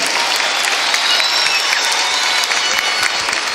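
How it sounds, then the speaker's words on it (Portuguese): Sustained, dense applause from a large crowd gathered outside at a rally-style event, loud and steady with a faint hubbub of voices mixed in throughout. "Uma salva de palmas para essa galera aí"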